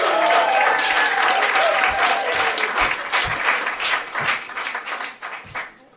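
A comedy club audience applauds for stand-up comedian Tim Williams, dense clapping from a full crowd that swells at first, then thins and fades out over several seconds.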